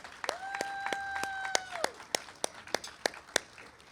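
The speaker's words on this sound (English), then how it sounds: "Let's give one more round of applause to the John Ward family." Applause at a college athletic hall of fame induction ceremony for the John Ward family, a few distinct close claps and lighter clapping behind them, with a brief whistle-like tone rising over the first two seconds.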